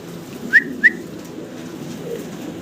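Bukhara pigeons: two short, bright chirping calls about a third of a second apart over a low, steady background murmur, fairly close but not loud, with no talking.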